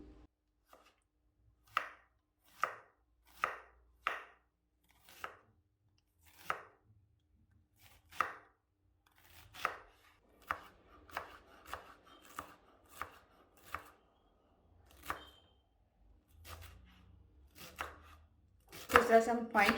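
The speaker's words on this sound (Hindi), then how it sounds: "सबसे पहले हम कैबेज को चॉप कर लेंगे।" Knife finely chopping cabbage on a board in a home kitchen, a steady series of sharp, close chops with short pauses, quickening toward the end into a denser burst.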